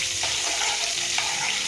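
A tempering of curry leaves and ginger-garlic paste fries in a pan, giving a dense, continuous close sizzle with faint stirring movements underneath and no talk.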